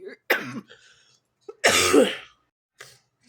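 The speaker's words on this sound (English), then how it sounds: "I had to cough really hard" Two sharp, harsh coughs, the second longer and heavier, separated by a pause, followed by a faint short cough; close and fairly loud.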